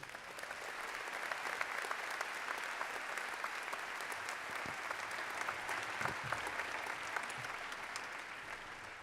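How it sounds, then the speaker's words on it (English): A large audience at a university commencement ceremony claps steadily and continuously, a dense wash of applause with faint crowd murmur underneath, sustained throughout. "would you please join me in a round of applause for our teammates?"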